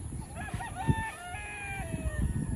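Chickens on a farm, with a rooster crowing and hens clucking nearby, several overlapping calls over a busy barnyard background.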